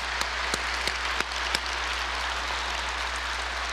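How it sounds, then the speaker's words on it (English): A crowd claps steadily in sustained applause, a dense wash of hand claps with a low hum underneath. "why don't we give a big round of applause to our brothers?"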